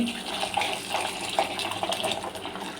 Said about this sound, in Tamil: அது ஒரு 10 நிமிஷம் சுடுதண்ணியில் ஊற்றி ஊற வச்சிடலாம்